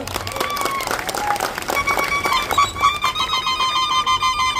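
An audience at a public event in Sangamner claps to welcome a guest, a dense burst of hand claps that thins into scattered claps. Bright tonal whistle-like sounds ring over it.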